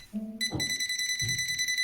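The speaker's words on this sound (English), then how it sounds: "we have the LED and we have beeping" A steady high electronic beeping tone from a VENLAB VC-600D digital clamp meter detecting live voltage starts after a brief lower buzz and continues unbroken, loud and close, with a soft thump partway through.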